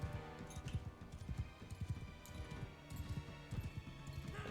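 Faint, irregular horse hoofbeats from the video game Mount and Blade 2: Bannerlord clatter in a quick rhythm, with some scattered knocks and thuds mixed in, all fairly quiet.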